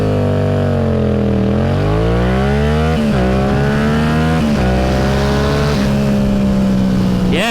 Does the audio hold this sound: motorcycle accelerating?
yes